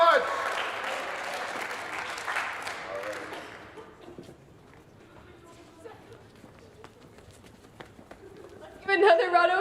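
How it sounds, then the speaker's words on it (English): Audience applause at a high school Mr. MHS pageant, a loud burst of clapping and cheering that fades after a few seconds into quieter room noise, then a short sharp swell of claps near the end. "Give another round of applause for Andrew Rigo."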